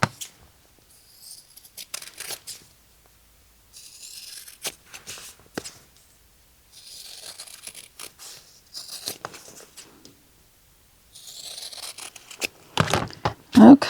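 Scissors snipping through fabric for a layered sea turtle applique on a sweatshirt, a series of close, crisp cuts in short bursts with quiet pauses between.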